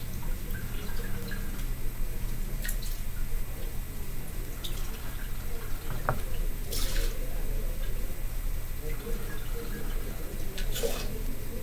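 Hendrick's gin is poured into a martini glass, a soft steady liquid trickle with a few light drips under a low background hum.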